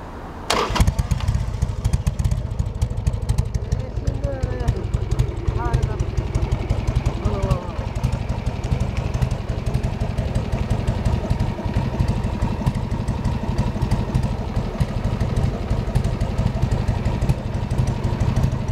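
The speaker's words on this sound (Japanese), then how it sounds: "先ほどエンジンかけましょうか。" A Harley-Davidson XL1200C Sportster Custom motorcycle engine fires up with a sharp burst, then settles into a steady, rumbling idle that runs throughout, close and loud, with voices faintly underneath.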